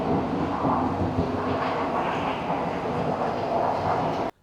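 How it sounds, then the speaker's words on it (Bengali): A driverless Singapore metro train runs with a steady, loud roaring whoosh and rumble, the level constant until it cuts off abruptly at the end. "চালকহীন মেট্রো"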